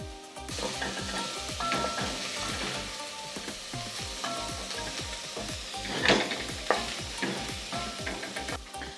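Onions and garlic sizzle steadily in a hot pan while a spoon stirs them, the frying hiss continuous and close with rhythmic scraping strokes throughout, no voices.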